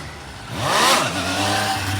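A 2007 Suzuki GSX-R 600 motorcycle revs hard during a wheelie, one sharp rising-and-falling engine sweep passing close by, then settling into a steady mid-pitched drone.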